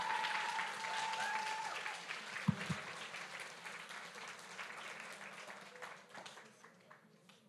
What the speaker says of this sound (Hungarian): Nagy-nagy tapsot kérünk szépen neki.